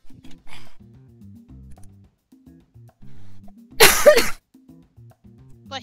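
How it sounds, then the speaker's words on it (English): A single loud, sharp sneeze bursts out mid-clip, set between stretches of cartoonish tower-defense game sounds with soft clicks and tones from Bloons Tower Defense 5. "Bless you."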